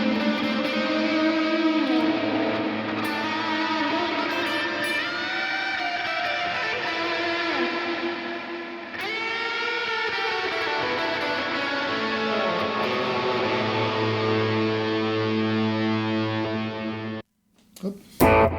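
An electric guitar played through a multi-effects setup with saturation distortion, reverb and delay, sustained overdriven chords and notes ringing steadily for a long stretch before cutting out abruptly near the end.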